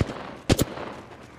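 Two quick, loud gunshot bursts from a firefight in the video game Apex Legends, close together and standing out from a quieter game backdrop.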